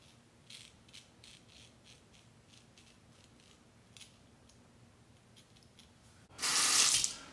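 A shavette razor, a Parker PTABK adjustable, gets rinsed under a running tap: a loud burst of splashing water near the end, after faint light taps and clicks of the razor.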